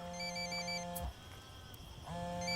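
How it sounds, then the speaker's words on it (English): A phone rings in the video game Ghost Recon Wildlands, two bursts of an electronic ringtone with a steady tonal pattern and a short silent gap between them, heard clearly without talk. "Phone. That's no IED. It's ringing too much."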